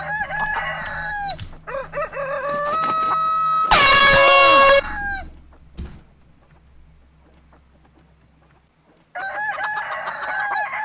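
A video game plays cartoonish chicken clucks and crowing. A blaring horn-like burst cuts in midway, then comes a near-silent gap before more clucking.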